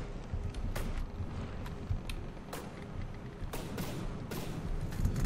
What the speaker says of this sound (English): One of my cannon shells hit.